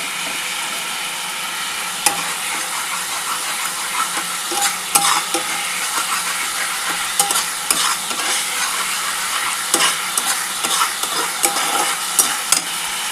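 Arhar dal, pressure-cooked beforehand, hits a hot pan and sizzles loudly and steadily while a spoon stirs and scrapes with frequent clinks against the metal in a vegetarian home kitchen, with no talking.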